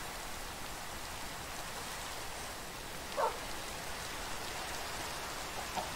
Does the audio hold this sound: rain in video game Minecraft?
yes